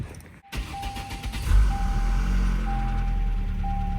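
A car's engine turns over and catches after new spark plugs were fitted, settling into a steady, smooth idle, preceded by a repeating electronic chime; close and fairly loud with no talking.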